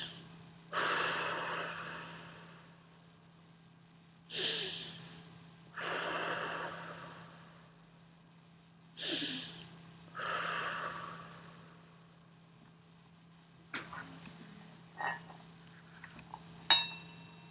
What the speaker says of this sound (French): Vous faites 3 grandes inspirations.